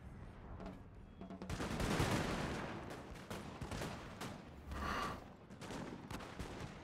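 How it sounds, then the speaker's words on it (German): Bursts of rapid musket fire and scattered shots crackle through a busy Napoleonic battle in the video game Napoleon: Total War, with heavier booms rising partway through and no voices. "die erste Feuergefechte"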